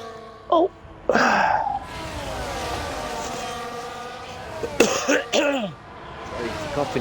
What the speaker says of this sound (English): Sorry for coughing again.